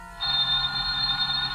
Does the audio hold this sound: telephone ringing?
yes